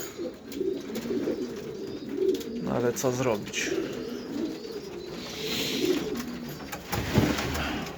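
Pigeons cooing at their nest boxes in a loft, soft repeated coos mixed with other bird calls, while someone talks over them on a cold, rainy day.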